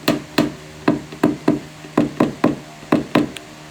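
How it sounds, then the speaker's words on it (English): Repeated knocking as hail dents are tapped flat on the roof rail of a Honda Civic during paintless dent repair, about a dozen sharp, close taps in an uneven steady rhythm with no talk. "now we just need to knock down. So what we're trying to do is just knock it down completely flat."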